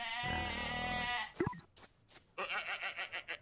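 Goats bleat in the survival video game No One Survived: a long, loud wavering bleat, a short pause, then a quick run of shorter pulsing bleats.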